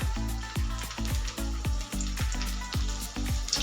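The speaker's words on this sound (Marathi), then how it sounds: "लसणाचा कलर चेंज होईपर्यंत आपल्याला तेलामध्ये तळून घ्यायचा आहे पहा लसूण" Garlic sizzles steadily in hot oil with a bright crackle, broken by regular stirring strokes roughly every half second. No voices.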